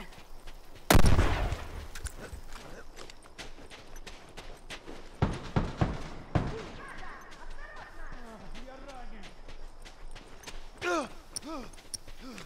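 A bomb blasts in The Last of Us video game: one loud, deep boom near the start, followed by sharp impacts and scattered clatter, with distant creature-like calls near the end.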